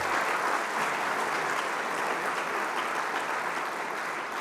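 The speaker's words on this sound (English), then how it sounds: "I want to get another round of applause for our Trailblazers" An evening awards ceremony audience gives a round of applause, dense continuous clapping from a large crowd, loud and steady from start to finish with no voices over it.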